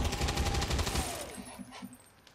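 Suppression gunfire in the XCOM 2 video game: a rapid burst of automatic shots for about a second, loud and close, then a decaying rumble with a few faint clanks as it fades.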